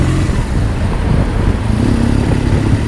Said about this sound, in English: this one is a Beamer I'm riding right now